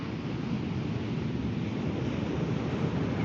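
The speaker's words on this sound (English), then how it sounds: "you can imagine or see the waves crashing on the shore, spreading out" Ocean surf on a beach at Trinidad, California, a steady broad wash of waves and wind noise with no distinct breaks, even in level throughout.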